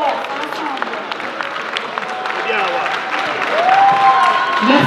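An audience at a fashion night show applauds a stylist on stage, a sustained dense patter of clapping with some cheering that swells toward the end, with a voice and whistle-like tones above it.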